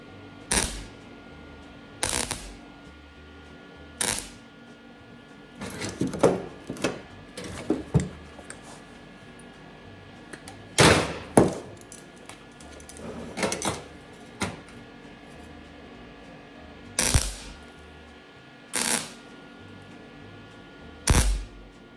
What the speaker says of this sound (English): Get your little stitch welds on there.